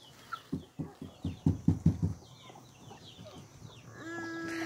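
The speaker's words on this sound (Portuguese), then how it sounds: "E a galinha come milho?" Chickens cluck in a quick series of short, close bursts while eating corn, then fade to quieter pecking and rustling with a thin tonal sound near the end.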